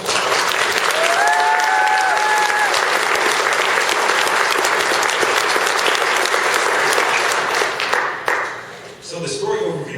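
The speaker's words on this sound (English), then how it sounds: "So if you give them a round of applause." Sustained audience applause fills a convention panel hall at SOE Live 2013 for the EverQuest II cinematic team, loud, dense clapping from a large crowd lasting about eight seconds before tapering off, with a few faint cheers in the mix.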